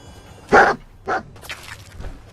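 Dogmeat, the dog companion in Fallout 4, gives two loud close barks in quick succession, the second shorter, followed by fainter softer yips.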